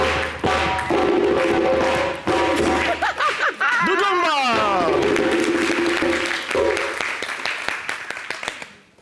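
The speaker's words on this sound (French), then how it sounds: "je voudrais vous demander d'applaudir bien fort notre équipe avec DJ Moon et le grand Doudou." A television studio audience claps and cheers loudly for the show's team and DJ, steady applause swelling across the whole stretch with a voice calling over it before it tapers off at the end.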